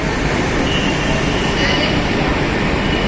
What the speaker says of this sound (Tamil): Air conditioned southern railways local train.